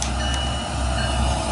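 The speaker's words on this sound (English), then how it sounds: "Turn on the bell." A steam locomotive's bell rings in the Trainz 2019 train simulator game, a steady repeating metallic tone over a continuous broadband engine and rail rumble.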